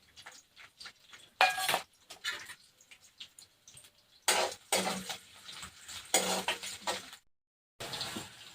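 Green chillies fry in a pan with a soft sizzle. A spoon clinks and scrapes against the metal in irregular bursts, with no talking.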